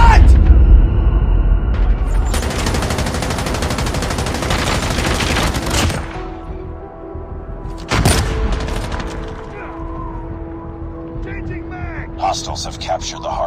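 Rapid gunfire bursts and booms ring out during a Call of Duty Mobile multiplayer hardpoint match. Loud automatic fire comes in clusters, with voices over the action.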